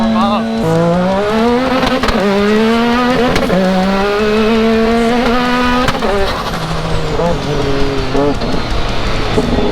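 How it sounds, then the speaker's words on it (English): An E85-fuelled dune race car engine revving on frozen sand in cold weather, loud and close, its pitch climbing and falling through repeated throttle blips with sharp cuts between revs. "Try to get some heat in this motor before we go ripping it."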